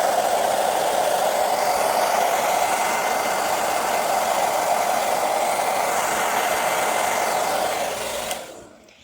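A heat gun blows hot air onto a decal, a steady loud whooshing roar that runs unbroken for several seconds before switching off and winding down near the end.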